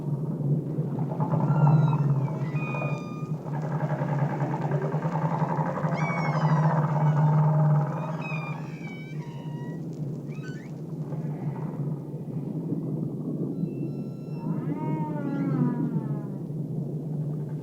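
Living whales heard in open water, with rising and falling tonal calls and faint sweeping whistles drifting over a steady low underwater rumble, distant and continuous throughout.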